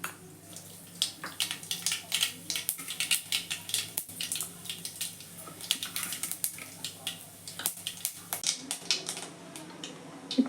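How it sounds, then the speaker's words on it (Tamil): Rapid irregular popping and crackling of mustard seeds spluttering in hot oil, a dense patter of small sharp bursts. "இப்போ கடுகு வெடிச்சிச்சு."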